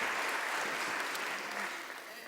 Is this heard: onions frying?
no